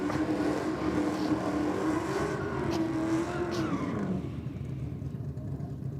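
Drag racing cars, including a nitrous-equipped Saluka and a VF Commodore, roar at full throttle with a loud, sustained engine drone that rises in pitch and then fades away into distance.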